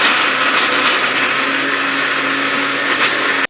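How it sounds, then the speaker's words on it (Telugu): An electric mixer grinder whirs steadily at full speed as it blends soaked tamarind pulp for a fish curry, a loud, continuous motor roar that holds unbroken before cutting off abruptly at the end. "ఇలా పొట్టంతా ఇప్పుడు మనం మిక్సీలోకి వేసుకొని దీన్ని బాగా మిక్సీ పట్టేసుకుందాం ఇప్పుడు."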